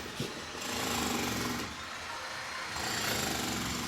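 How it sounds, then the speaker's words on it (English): Steady, loud mechanical drilling noise that continues throughout with a rough grinding texture, swelling slightly in bursts, with no voices. "do you hear the drilling?"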